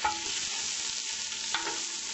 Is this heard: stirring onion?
yes